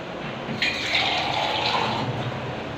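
Water poured into a pot of khichdi in a home kitchen, a steady close splashing fill lasting the whole moment with no voices over it.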